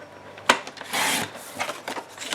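Cardstock being trimmed by a quarter inch, a sharp close snap followed by short rasping slides of a blade or trimmer across paper, quiet and alone.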